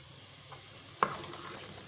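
Onions fry gently in a pan for green masala fish curry, a soft low sizzle broken by one sharp utensil clink midway, followed by light scraping, quiet and close, without talking.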